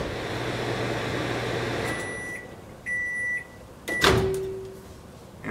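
A microwave heating a bowl of cold water hums steadily, then stops and gives a few sharp electronic beeps, followed by a clunk as the door opens.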